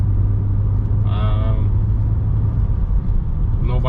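A 1999 BMW M3 E36 with a repaired shock tower drives down a street, giving a steady low road and engine rumble from inside the cabin, smooth and without knocks, with a brief higher tone partway through.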